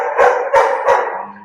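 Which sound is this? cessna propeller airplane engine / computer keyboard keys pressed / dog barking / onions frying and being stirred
dog barking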